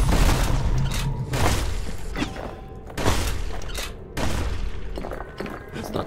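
Musket fire and thudding booms from the action game Bastion, several heavy shots and impacts scattered through the clip over a dense, busy game mix without speech.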